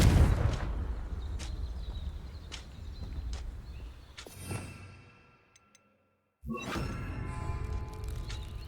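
Confringo spell explosion from a Harry Potter video game: a run of sharp cracking blasts over a rumbling bed, then a sudden drop to near silence before loud crashing debris and echoing noise resume.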